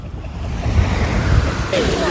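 Black Sea surf washes onto a sandy beach at Chornomorka, a steady broadband roar of breaking waves with wind buffeting the microphone throughout, fairly loud and close.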